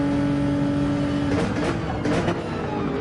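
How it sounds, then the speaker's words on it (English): In the Gran Turismo 7 racing game, a Genesis race car engine drones loudly and steadily, rising in pitch partway through as it accelerates. "the Genesis is quite a loud car as well"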